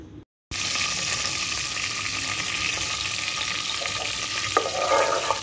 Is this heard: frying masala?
yes